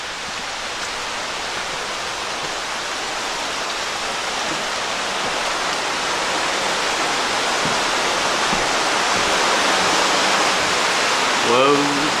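A waterfall pours in a steady broadband rush, the flowing water growing slightly louder over time, with a brief voice near the end.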